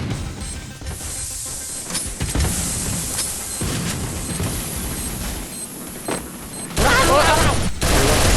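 Rapid automatic gunfire from the video game Point Blank, dense bursts running throughout with louder blasts near the end, mixed with game effects and a voice talking over it.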